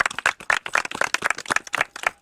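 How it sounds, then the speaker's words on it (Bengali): Quick bursts of hand clapping from a small crowd at an outdoor winter blanket distribution in Gaibandha, brisk and uneven, lasting a couple of seconds with no talk. "একটা হাততালি হবে।"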